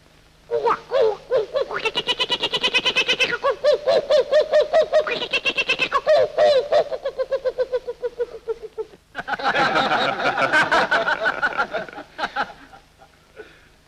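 A voice imitates a kookaburra call, with rapid rising cackles and chuckling bursts in long rhythmic runs, a pause, then another laughing burst, close and loud.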